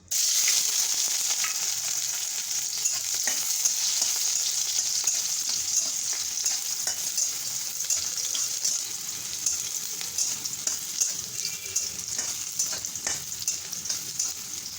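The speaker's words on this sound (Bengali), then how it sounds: "রসুনগুলো ভাজা হয়ে গেছে" Crushed garlic frying in hot oil in a heated wok for a village-style lentil dish gives a loud, steady sizzle that runs unbroken from start to finish, close up, with no talking.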